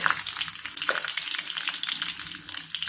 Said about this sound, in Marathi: तेल तापलं की याच्यामध्ये 1 टीस्पून मोहरी आणि अर्धा टीस्पून जिरं